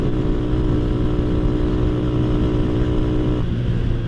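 A Honda Astrea Grand motorcycle with a Jupiter carburetor on a stock engine holds a steady, loud, buzzing drone at full throttle while riding, with a slight shift in tone near the end and no talk.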